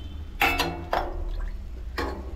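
Water poured from a glass into a cooking pot of chana dal bhaji lands in a few short, splashy bursts with quiet gaps between them, soft and close.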